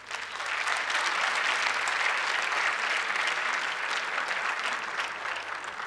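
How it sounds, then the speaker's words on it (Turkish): A studio audience applauds a guest on a Turkish television talk show, with dense, steady clapping that fills the whole stretch at an even, moderately loud level. "Alkışlarınız Rasim Uyan için."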